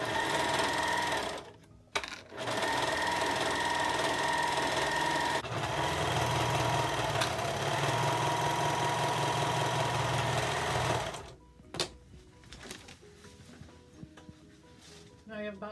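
A serger chain-stitches PUL fabric transport bags one after another, a loud, steady, close motor whir running continuously for about eleven seconds, briefly interrupted once, then stopping into quieter handling sounds and talk.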